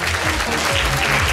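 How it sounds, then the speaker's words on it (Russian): Audience applause at a dance school's recital concert for adult oriental dance students, a loud, steady wash of clapping throughout, with some low voices underneath. "Встречаем бурными аплодисментами!"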